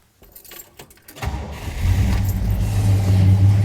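Keys jangle briefly, then a 1965 Buick Riviera Gran Sport engine cranks and catches, settling into a loud, steady idle with a deep rumble close by.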